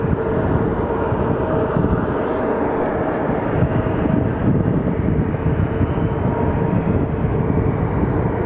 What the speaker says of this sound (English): We're about to get a 747